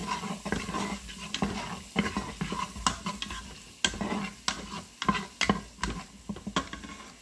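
Chopped medium onion frying and being stirred in a pot, with a steady sizzle and repeated scraping strokes of a utensil against the pot, close and fairly loud, no talking.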